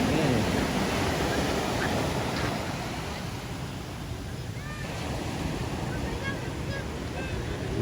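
Surf washes continuously at a waterside in Antique, Philippines, loud and close, with wind buffeting the microphone and faint distant bird calls.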